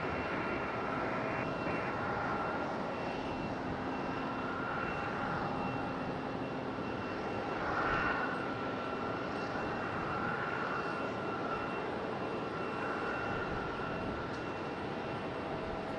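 A Frontier Airbus A321neo jet airliner roars steadily at Raleigh-Durham International Airport, a broad sustained engine rumble and whine that holds at a fairly even level throughout, with no talk.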